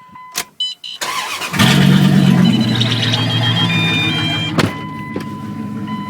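Engine of a 2001 Dodge Ram with straight pipes and no mufflers or catalytic converters cranks, catches and settles into a loud, rough, throaty idle up close, with a brief blip near the end.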